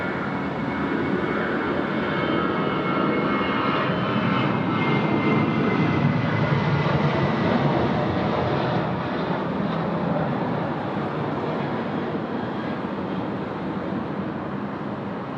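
Airliner engines roar loudly and steadily at Sydney Airport on a heavy rain night, a broad continuous rumble with hiss that holds throughout, with no talk over it.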